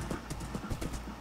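Horse hooves in Minecraft clip-clopping at a steady trotting rhythm, a short run of repeated hollow thuds, moderately loud with no talk.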